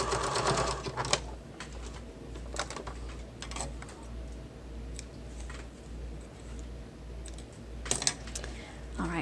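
A sewing machine stitches a bag with a zipper, whirring in short bursts with brief pauses between runs, steady and close, with no talking.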